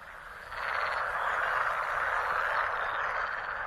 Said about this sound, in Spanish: El croar de las ranas macho resuena por toda la zona.